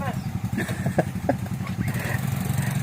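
A motorcycle engine chugs in a rough, pulsing idle close by, steady throughout, while people talk over it.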